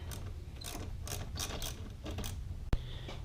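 A ratchet tightens screws on an engine mount shield with a quick series of clicking pawl bursts, close up, ending in one sharp metallic snap near the end.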